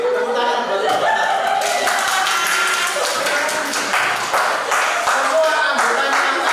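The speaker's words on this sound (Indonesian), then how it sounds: "tepuk tangan buat kelompok 1" A classroom full of students claps for a winning group, a continuous loud patter of many hands with some chatter and laughter mixed in throughout.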